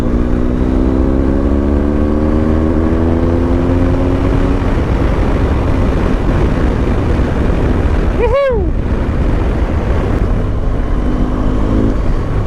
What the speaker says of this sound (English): This bike can fucking go when you want it to.